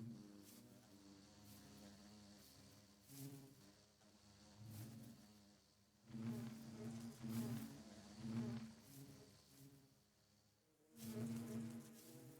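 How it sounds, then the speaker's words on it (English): Bees in the Minecraft video game buzzing softly and steadily, swelling in several low-level bursts as they fly around the hives, with no talking over them. "I'm just seeing a lot of bees flying around that have pollen that aren't going into the hives"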